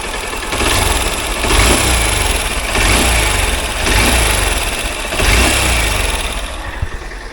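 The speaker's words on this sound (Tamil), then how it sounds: "600 கிலோமீட்டர் ஓடியும் வண்டியோட இன்ஜின் நாய்ஸை காமிக்கிறேன் பாருங்கள்." A Honda Unicorn 160 motorcycle engine idles after 600 km of riding, a close, loud, steady low rumble with a few gentle swells in revs and no talk.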